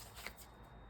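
A quick riffle of tarot cards being shuffled, soft and brief, heard close up in a quiet room.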